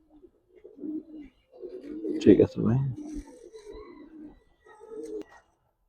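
Pigeons from a stock of show breeds coo in low bursts between and under a man's speech, the cooing soft and close with a louder rolling call in the middle.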